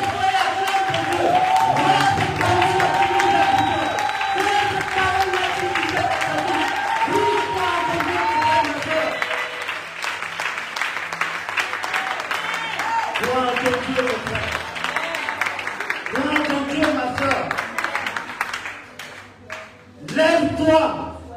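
A church congregation at an evening vigil service applauds and cheers in a sustained, dense wash of clapping and crowd noise, with singing and voices running through it and a brief dip before a final surge.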